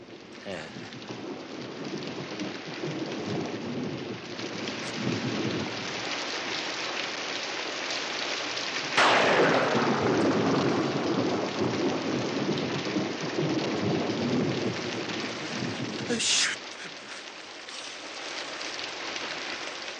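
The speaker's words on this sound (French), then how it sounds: "Il pleut ou quoi?" Heavy rain pours steadily on surfaces while thunder cracks sharply partway through, followed by a long rolling rumble and a second sharp burst near the end.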